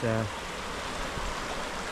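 A fast-flowing river in Alaska, swollen and running high near riverside campsites, gives a continuous rushing water hiss. A brief voice sounds at the very start, then the flow carries on alone.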